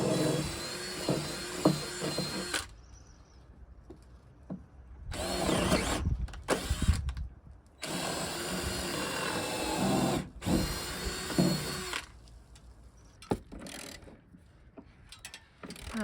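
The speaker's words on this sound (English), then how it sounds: "I might need to drill a hole." A power drill whirs in several bursts of varying length while drilling a hole in a deck, stopping and starting with short pauses between runs, loud and close.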